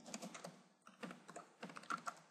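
Quiet, close typing on a computer keyboard while filling in spreadsheet cells: quick bursts of soft key clicks separated by short pauses.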